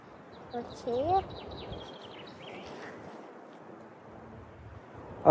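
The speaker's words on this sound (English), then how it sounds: "I heard a bird over there." A couple of short, warbling bird calls rise early on over a quiet outdoor background, faint and somewhat distant, with a little low murmuring.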